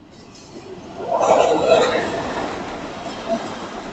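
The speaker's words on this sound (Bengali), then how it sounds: "junction train" A junction train rolls past with a rising rush and rumble that swells midway and slowly fades, with a faint clatter near the end.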